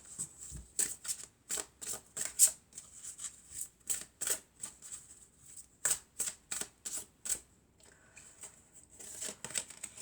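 A deck of oracle cards being shuffled by hand, close and quiet, with a long series of short papery riffles and slaps in an uneven rhythm.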